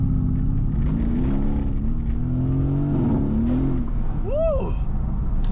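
A Mercedes accelerating hard from a standstill gives a loud, close engine roar, its pitch climbing steadily as it gains speed, with a brief higher whine near the end and voices faintly beneath.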